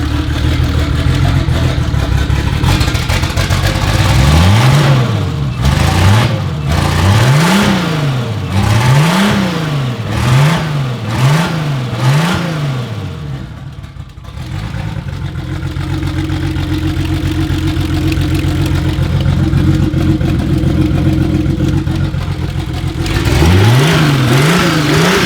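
Turbocharged M20 stroker engine in a BMW E30, running close by and revved repeatedly in quick, rising-and-falling bursts, then settling to a steady idle before more revs pick up at the end.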